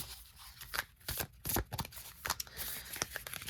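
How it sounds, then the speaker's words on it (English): A deck of tarot cards is shuffled up close, giving quick, irregular riffles and soft slaps in short bursts at a low level. "it's interesting too how the cards were shuffling kind of weird there for a second"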